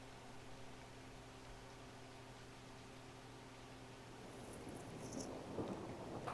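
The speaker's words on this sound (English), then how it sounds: "like if I was trying to sleep to this rain and that thunder came on" Rain and thunder ambience from The Sims 4 video game: faint steady rain hiss with a low rolling rumble of thunder building toward the end, no voices.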